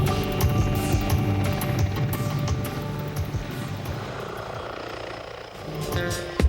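A steady, loud military attack helicopter rotor drone with low rhythmic thumping and engine hum, continuous throughout with no voices.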